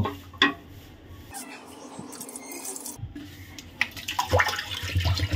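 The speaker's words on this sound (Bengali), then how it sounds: "ডালটাকে আমি এখন জলটা পাল্টে পাল্টে সুন্দর করে ধুয়ে নেব" Mung dal lentils rinsed in a bowl of water, with the water changed between rinses: sloshing, swishing and splashing, with a few sharper splashes and pours in the second half and no talking.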